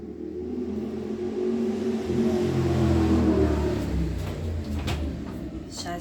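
A motorcycle engine revs nearby as a steady, loud, low rumble that swells and eases over several seconds, with no talking.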